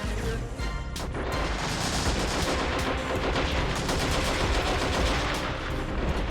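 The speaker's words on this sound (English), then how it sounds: "They're proper overheated from all the shooting." Dense, continuous gunfire from the war video game Army Men of War Legends, heavy machine-gun bursts and overlapping shots forming a loud, unbroken barrage with crashes mixed in.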